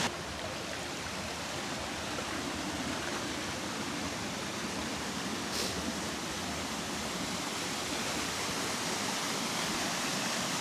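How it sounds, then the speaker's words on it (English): A steady, loud roar of cascading water fills the whole clip, broadband and unbroken like a nearby waterfall, at Allerheiligen Waterfall in Germany's Black Forest. "And here we come with another cascade."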